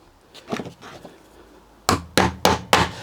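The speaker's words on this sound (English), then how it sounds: "please excuse me whilst I get going and get these dowels in" Plastic dowels hammered into van conversion panels: a few softer knocks, then four sharp, loud hammer blows in quick, even succession, close by.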